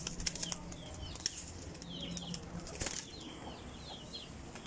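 Pigeon wings flap in repeated short bursts, nearby and fairly quiet, with a few soft chirps in the background.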